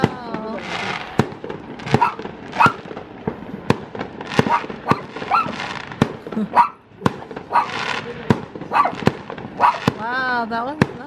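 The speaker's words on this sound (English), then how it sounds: "Are you scared of the fireworks?" Fireworks burst repeatedly in sharp cracks and booms, dense and fairly close, while people talk over them and a dog barks at one point.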